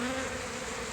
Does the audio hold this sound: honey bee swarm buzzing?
yes